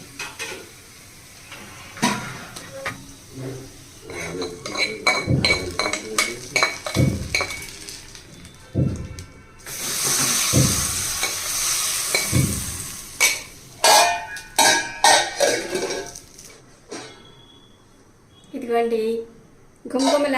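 Fried onion tempering tipped into a drumstick stew, with sharp sizzling bursts, metal spoon clinks and repeated stirring against the pot, close and busy, while a person talks intermittently.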